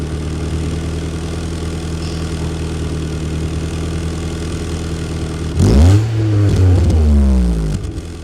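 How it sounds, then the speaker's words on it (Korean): A 1996 Kia Elan with stock exhaust and a tuned intake idles steadily, then gets a single sharp rev that climbs and falls back, loud and close with no talk. "기아 엘란의 순정 배기음"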